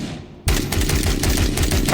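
Rattler cycling assault rifle from a Fallout 4 mod firing in a rapid automatic burst, loud rhythmic cracking shots starting abruptly after a brief quiet moment.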